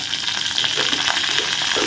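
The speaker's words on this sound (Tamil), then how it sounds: "கடுகு பருப்பு சீரகம் பெருஞ்சீரகம் எல்லாத்தையும் போட்டாச்சு இதெல்லாம் போட்டு பொறிஞ்சிட்டு இருக்கும்போதே" Steady, dense sizzling and crackling of mustard seeds, lentils, cumin and fennel seeds frying in hot oil, with small pops scattered throughout, close and continuous.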